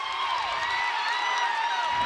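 DC Everest hockey crowd at a Marathon Cup high school game, a sustained roar of cheering and shouting that fills the rink after an interference penalty, dense and steady throughout.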